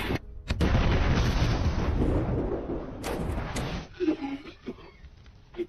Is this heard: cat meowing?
no